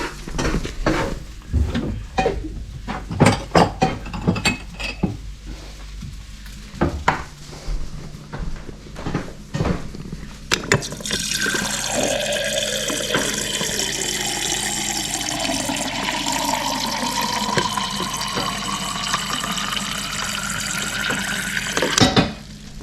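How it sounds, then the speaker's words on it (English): Water runs from a tap and fills a cup in a kitchen, a steady bright pouring stream after a stretch of clinking dishes and small knocks. "You want to pour me a cup of water, please?"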